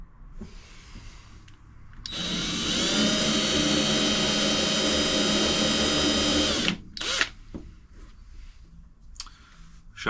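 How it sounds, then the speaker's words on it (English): A power drill whines steadily for several seconds while boring into a seized carburettor, then cuts off, followed by a few short clicks and scrapes of metal handling. "Sharp drill bit might help."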